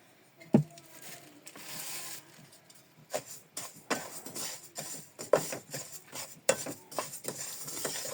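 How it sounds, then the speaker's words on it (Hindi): Sesame seeds are dry-roasted in a pan for flaxseed laddu, with a spoon stirring and scraping through the seeds. Irregular metallic clinks and knocks come over a faint rustling patter, close by and moderately loud, with no talk. "अब हम तिल डालेंगे और वो भी रोस्ट करेंगे।"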